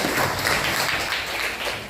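Classroom applause for a student, Ananda Fahira, during a seventh-grade informatics lesson; a steady, dense patter of clapping fills the whole moment at even loudness with no voices over it.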